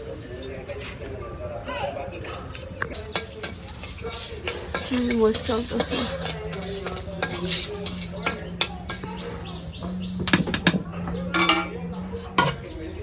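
Garlic fries in oil for a baghar tempering, giving a continuous sizzle with clattering utensils and stirring close by, while people talk over it and children's voices rise in the background.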